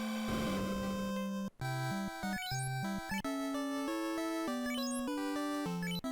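Chiptune music from the NES Final Fantasy game plays steadily alone, with a poison damage effect meant to sound on each step, not clearly separable from the tones.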